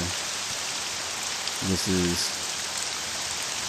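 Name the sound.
rain falling in the video game OpenMW (Morrowind)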